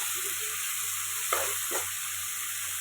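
Onions and tomatoes sautéing in a pan for chicken gravy give a steady, soft sizzle with two brief stirring scrapes near the middle, and no voices.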